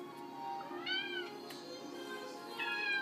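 Fluffy white cat meowing for raw food indoors, two drawn-out rising-falling meows about a second and a half apart, close but fairly soft over a quiet room.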